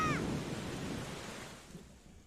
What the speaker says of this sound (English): Like how the rain was falling on the fade out.